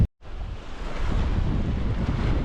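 Wind and rain buffet an open shoreline on the River Humber on a wild November morning, a loud continuous roaring rush with gusty swells, preceded by a brief moment of near silence.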